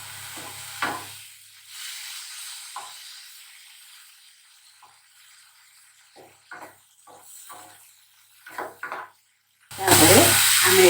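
Tomato chutney being stirred in a pan: faint, sparse scraping and light sizzling for most of the stretch, then a loud burst of sizzling at the very end.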